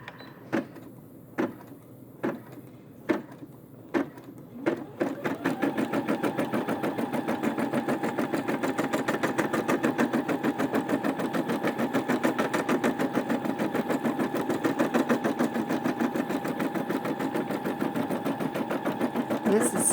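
Brother SE600 embroidery machine stitching a quilt with no stabilizer, a few separate thumps first, then a continuous rapid rhythmic whirring of needle strokes that runs steadily and close for the rest.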